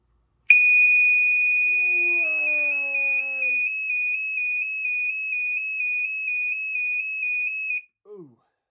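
A LifeGard II firefighter PASS device alarm sounds loud and close, a shrill steady electronic tone that shifts into rapid evenly pulsing beeps for several seconds, with a short falling chirp as it cuts off.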